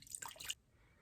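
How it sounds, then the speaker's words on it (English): Water splashing and dripping during a nighttime skincare wash-off, a brief burst of spattering drops lasting about half a second before falling quiet. "I definitely spilled a lot of water, but much less than I thought I was going to spill."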